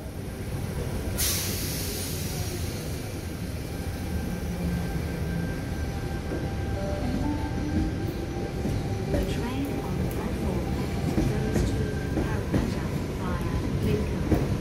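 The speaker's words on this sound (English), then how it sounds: "here comes my train, which will transport me to Parramatta." A Sydney Trains train bound for Parramatta rumbles steadily into a station, a broad low roar with squealing and clanking building gradually, heard from the platform at moderate distance.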